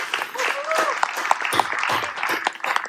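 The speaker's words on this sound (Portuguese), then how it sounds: "Dá uma salva de palmas aí para eles." Church congregation applauding recent university graduates, a lively spread of clapping heard under a voice and possible background music, moderately loud throughout.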